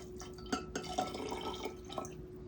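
Dark rum poured into a glass in a heavy two-ounce pour for a cocktail, heard as close, faint liquid trickling with small glassy drips over a steady low hum, alone without talk.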